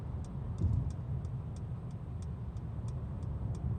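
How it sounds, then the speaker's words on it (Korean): A car's turn signal ticks in a steady, even rhythm inside the cabin while changing lanes on a road in Incheon, sitting faintly over a low, constant road and engine rumble. "깜빡이 켜주고"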